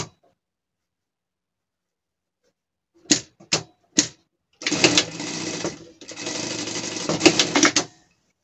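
Sewing machine stitching a seam on a gaucho-style pet costume, starting with three short bursts, then two longer steady runs of stitching, alone and close.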